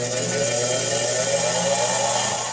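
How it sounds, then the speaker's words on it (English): A power grinder cuts down the steel front sight of an AR-15 rifle, a loud, steady high-pitched whine that holds unbroken throughout. "what we're going to do now is we're going to take the top and start doing the same. Grind down"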